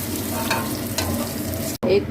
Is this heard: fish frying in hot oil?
yes